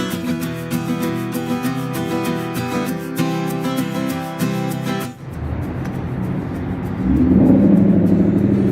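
A Scion FR-S with a silencer in its exhaust drives off a highway, first behind loud tonal music, then with a steady engine and road rumble that swells as it pulls away.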